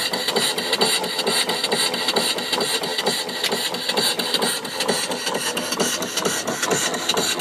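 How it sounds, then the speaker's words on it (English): Mill steam engine with a flyball governor, running on steam from a 20-inch boiler, giving a loud, fast and steady mechanical chuffing and clatter throughout, close by, with no talking. "And I've just got it running off of my 20-inch boiler."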